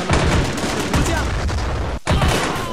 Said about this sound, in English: Artillery is firing point blank.